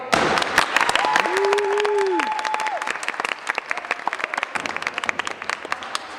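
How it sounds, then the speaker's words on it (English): An audience at a stage play claps loudly in a dense burst that thins into scattered claps, while a voice or sung tone briefly rises above the applause. "clap as loudly as they can"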